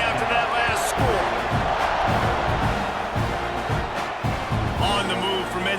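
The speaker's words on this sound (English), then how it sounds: "this crowd is buzzing after that last score" Stadium crowd noise roars steadily through a simulated Mississippi State at Texas A&M college football game, a loud, dense buzz with bursts of cheering and thumping beats, while a play-by-play voice talks over it.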